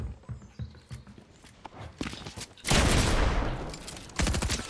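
Rapid bursts of video game gunfire crackle over a dense wall of noise, swelling louder midway and again near the end, with scattered sharp reports early on and no talk.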